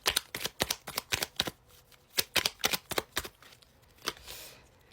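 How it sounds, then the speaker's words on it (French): Tarot cards being shuffled by hand: a run of quick, crisp riffling bursts, close and fairly quiet, with short pauses between them and no talking. "Je n'arrive pas à mélanger."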